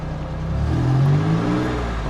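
A car engine, pulled from a personal collection bound for charity, revs up from idle to a brief, rising peak and settles back, running rough and close by with no talking.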